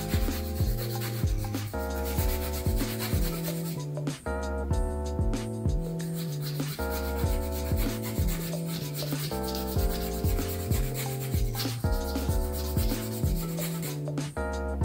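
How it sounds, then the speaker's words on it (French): Close, steady rhythmic rasping of a nail file rubbed over fingernails, repeated short strokes with brief pauses, dry and fairly loud, with no talk. "Normalement c'est la lime qui fait le geste."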